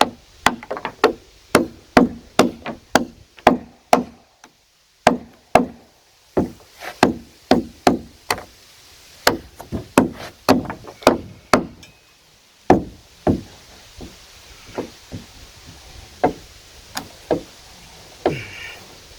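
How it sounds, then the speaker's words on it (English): Repeated hard wooden knocks ring out as cut pieces are struck out of a log cabin wall in a forest, loud and close, landing in uneven rhythmic runs with short pauses between. "They're cut at the same depth, so it should be a case of just knocking them out."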